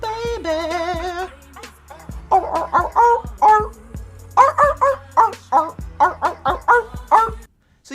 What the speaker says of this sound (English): You guys hear the dog singing Time Cube over and over again?